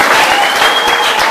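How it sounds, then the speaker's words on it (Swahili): A church congregation claps loudly and continuously, a dense steady burst of applause filling the hall during a service. "Pigie Yesu makofi asipokuwa na wewe"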